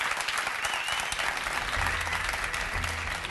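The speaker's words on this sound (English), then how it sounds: "A round of applause." Sustained applause from an audience, steady and fairly loud throughout, with a low rumble underneath.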